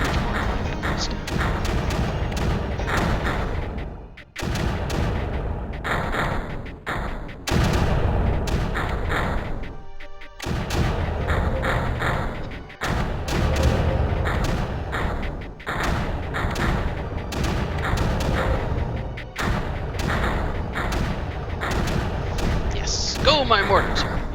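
Mortars firing in the strategy game Creeper World, a dense run of repeated booming thumps and gunfire-like bursts that goes on almost without a break, with a person talking over the game sounds throughout.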